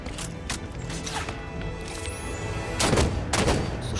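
Gunfire bursts and booms in Halo 5 Guardians gameplay, several sharp shots and a heavier volley near the end over a low mechanical background, fairly faint overall.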